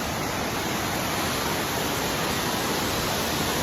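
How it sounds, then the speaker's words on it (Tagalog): Water pours down Pulang Bato Falls as a dense, steady roar, loud and unbroken, with no other sounds standing out. "Pulang Bato Falls. Here we are."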